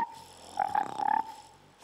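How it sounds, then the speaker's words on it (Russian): Recorded cicada sound played back as a demonstration: a short buzzing, pulsing trill lasting under a second, moderately loud, with quieter background before and after. "у нас часто под окном звучали цикады. Попробуем цикад."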